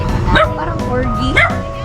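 A corgi gives two sharp yips about a second apart, close and loud, with a voice talking in the background between them.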